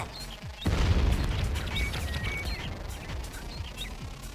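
In the video game Buck Bumble, mines explode in a booming burst followed by rumbling debris and scattered sharp clicks and chirps, fairly loud and alone.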